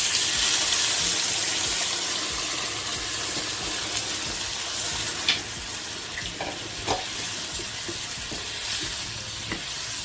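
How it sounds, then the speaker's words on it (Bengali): Water pours into a pot of frying potato curry, setting off a loud hiss and sizzle that fades to a softer bubbling, with a few stirring clinks. "জল দিচ্ছি।"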